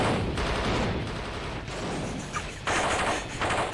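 Rapid gunfire in a DOS full-motion-video game aimed at a jeep, a dense continuous burst of shots filling the whole stretch, loud and close with brief dips in intensity.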